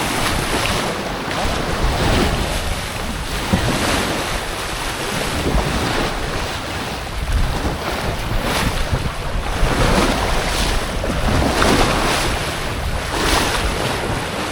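Surf rolls in continuously on a beach on Nagarao Island, Masbate, a broad rushing wash with periodic swells, mixed with heavy wind buffeting the microphone.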